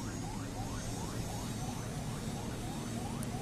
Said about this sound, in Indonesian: di sana ada ambulan